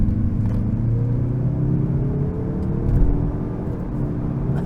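2024 Mazda3 Turbo sedan accelerating hard, heard from inside the cabin as a steady, loud engine drone and road rumble that climbs gradually in pitch, with no talking.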